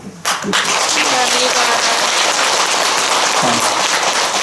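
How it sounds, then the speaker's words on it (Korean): Audience applause at the close of a special New Year prayer lecture in a Korean Buddhist setting, a dense, steady wash of clapping that starts abruptly and holds loud throughout, with a few faint voices underneath. "박수를 다시 한번 부탁드립니다."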